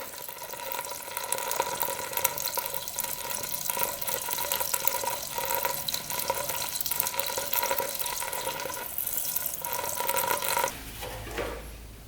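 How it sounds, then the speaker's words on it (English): Gasoline draining out of a removed gas tank during a repair, a steady hissing, trickling liquid stream running continuously, close and fairly constant, ending with a brief low thump. "we have to drain the whole gas tank"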